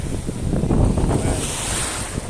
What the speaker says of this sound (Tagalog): papansin mo yung alon, ayun malayo.